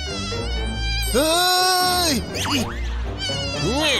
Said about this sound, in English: More mosquitoes!